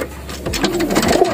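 A racing pigeon coos close by, a low, soft, throaty rolling call that swells and repeats across the moment with little else around it.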